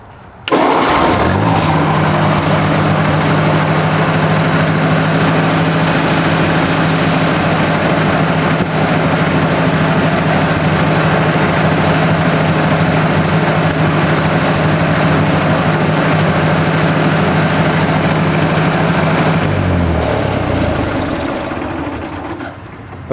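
A 1964 Ford 4000 tractor engine cranks, catches and settles into a loud, steady close-up idle that runs almost to the end before tapering off.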